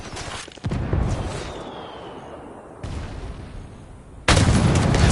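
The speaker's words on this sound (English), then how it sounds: "Opening fire on these shitheads" Heavy gunfire erupts in a PS4 shooter, an opening burst followed by sustained rumbling fire, a second volley midway and a loud, dense salvo near the end, close and forceful.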